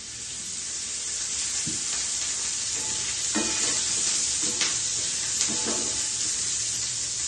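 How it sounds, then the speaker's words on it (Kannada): Oil is poured into a hot pan for frying bitter gourd, giving a steady close sizzle and hiss with a few scraping stir sounds. "ಈಗ ಎಣ್ಣೆ ಹಾಕ್ತಾ ಇದ್ದೀನಿ"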